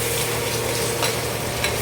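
Crab curry is stirred and mixed in a pan, with soft, faint scraping strokes over a constant bubbling sizzle.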